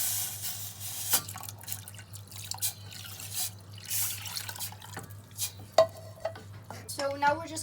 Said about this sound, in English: you're going to add in your water.